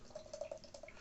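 Polly's Brew Co. Satin Pattern DDH pale beer pours into a glass in a brief, faint, bubbly trickle with soft splashing, no voices.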